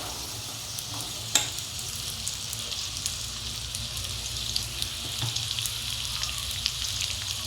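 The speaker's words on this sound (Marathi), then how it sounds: "इथे बटाटा शिजलेला आहे, त्यात आता आपण घालू साबुदाणा भिजलेला।" Soaked sago going into cooked potatoes in a frying pan for sabudana khichdi: a constant, moderate sizzle with light stirring scrapes and one sharp clink early on.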